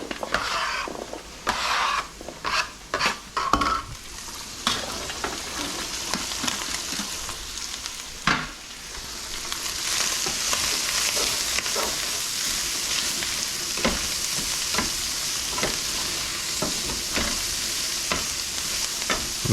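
Broccoli sautéing with garlic in a hot pan, a continuous sizzle broken by several sharp clatters and scrapes of stirring early on, then a steadier, brighter frying hiss.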